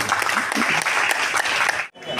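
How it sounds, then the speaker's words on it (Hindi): Attendees at a Khanpur block Congress committee meeting break into loud, dense applause, a continuous rattle of clapping that stops abruptly near the end before a brief trailing sound. "तो एक बार मेरी तरफ से जोरदार तालियां जरूर है।"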